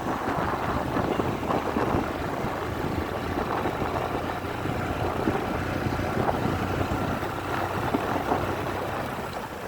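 A motorbike ridden at full speed on a road gives a steady, loud engine drone blended with rushing wind noise, continuous throughout with no talking.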